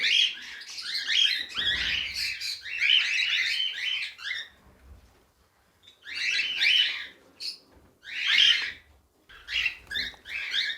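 A cockatiel breeder pair, male and female, give shrill, piercing calls up close in loud repeated bursts separated by short quiet gaps.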